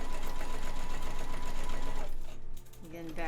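A sewing machine stitches box and knife pleats in fabric, a steady fast mechanical whirr that runs loud and close for about two seconds, then slows and stops, leaving lighter handling sounds at the end.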